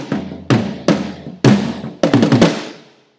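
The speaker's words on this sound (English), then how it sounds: "The toms are mainly the fillers." Drum toms played as a short fill: a series of deep, resonant hits descending and repeating in quick groups, each thud ringing out with a booming decay, close and unaccompanied, ending in a fading tail.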